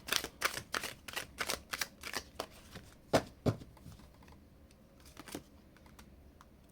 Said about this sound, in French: je vais aller prendre simplement 2 cartes pour avoir un conseil pour toi